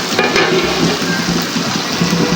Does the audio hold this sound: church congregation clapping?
no